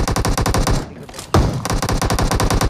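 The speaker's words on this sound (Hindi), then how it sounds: "एक गोली मार, एक गोली मार" Rapid automatic gunfire from a PUBG Mobile match, loud and close in steady bursts of closely spaced shots with a brief pause in the middle before the firing resumes.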